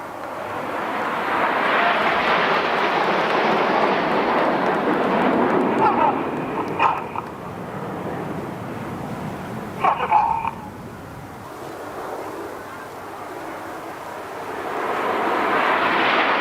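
Red Arrows jets fly in formation at an air festival display in Arbroath, a broad roar that swells, fades and returns, with a commentator speaking over the public address throughout.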